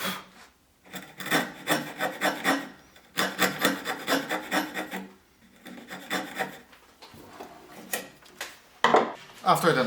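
Flat carpenter's chisel, a 22 mm blade, paring and cleaning wood left by a panel saw; rasping, scraping strokes come in bursts with short pauses, close and moderately loud.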